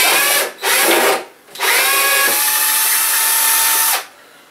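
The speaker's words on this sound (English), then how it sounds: "I have to drill in the right direction," A power drill backs screws out of a bedroom wall, whirring loudly in three bursts: two short ones, then one long sustained run before it stops.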